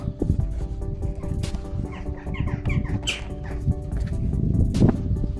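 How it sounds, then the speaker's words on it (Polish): Small birds chirp and twitter outdoors in spring, several short bright calls scattered over a steady low hum, while someone works on a Citroën Xsara Picasso nearby. "Wiosna idzie, ptaszki śpiewają."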